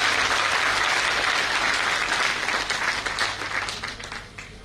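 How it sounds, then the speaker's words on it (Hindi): Thunderous applause from the crowd at an Aam Aadmi Party Rajasthan swearing-in ceremony, greeting the newly elected party president; dense, sustained clapping that stays loud before tapering off near the end. "इनके लिए भी एक बार जोरदार ताली बजाएं"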